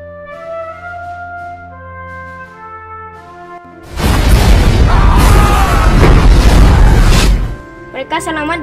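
An air-strike explosion from the 2003 war film Tears of the Sun cuts in after tense music, a loud, dense roaring blast that rumbles for about three seconds before the score returns.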